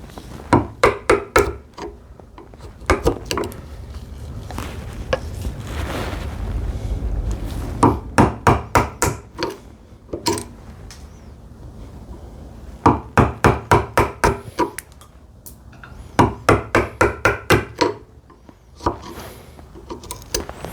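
A chisel driven into wood chops out dovetail waste in quick bursts of sharp, close strikes, each run of about six to eight blows separated by pauses with quieter scraping.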